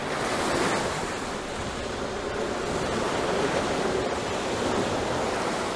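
Ocean waves surging onto the shore at Bell Island, Newfoundland, a loud, continuous roar of surf and rushing water with wind buffeting throughout, close and steady with no voices.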